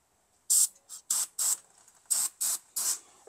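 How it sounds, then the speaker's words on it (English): Aerosol brake cleaner hissing in seven short bursts, some longer than others, close and loud with brief pauses between them. "The brake clean. But yeah, we're just gonna spray this down."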